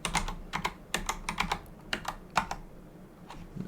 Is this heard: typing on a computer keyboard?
yes